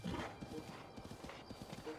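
A horse in Zelda: Breath of the Wild trotting, its hooves clip-clopping in a quick steady rhythm, close and soft, with a brief whinny-like tone.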